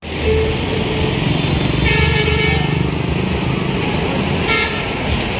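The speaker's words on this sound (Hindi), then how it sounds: "ये है टेम्पो ऑटो थ्री व्हीलर एकदम नाइस लुक है" A Tempo auto three-wheeler gives a steady, loud engine rumble that runs throughout, with two brief horn-like toots partway through and near the end.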